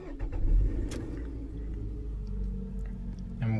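A Nissan Sentra with a 2.5 liter engine cranks and fires up close by. A loud low rumble swells in the first half-second, then settles into a steady idle.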